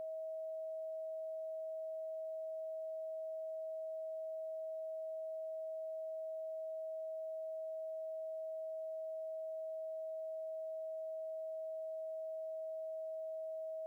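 A steady 639 Hz pure sine tone holds at one pitch for the whole stretch, smooth, unbroken and quiet, with no other sounds around it.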